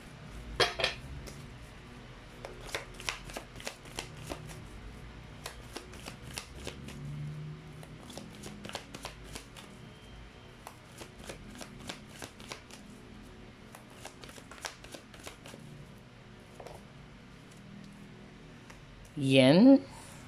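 Tarot cards are shuffled with soft repeated riffles and light taps throughout, fairly quiet and close, while a voice speaks briefly near the end.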